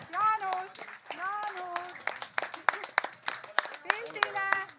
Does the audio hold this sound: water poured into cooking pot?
no